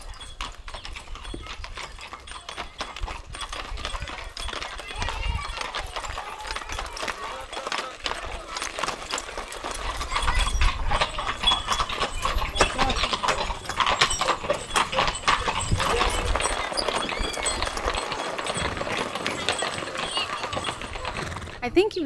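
Horses clip-clop steadily along a village road in Viscri, a Transylvanian village in Romania, their hoofbeats fairly near and continuous beneath people talking, growing louder partway through as they pass.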